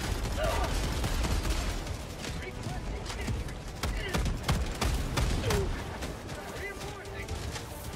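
Sentry turrets in Helldivers 2 fire rapid bursts of gunfire in a dense, continuous barrage, loud and close throughout.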